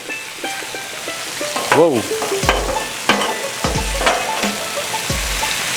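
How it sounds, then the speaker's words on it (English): Skirt steak sizzling on a Blackstone griddle, a constant close frying hiss with scraping spatula strokes and clanks against the metal surface, and a brief spoken exclamation partway through. "look at that skirt steak cooking up nicely"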